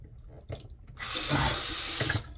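Water gushes steadily from a sink tap, starting abruptly after a few faint clicks and handling sounds, then running loud and close for over a second before tapering off.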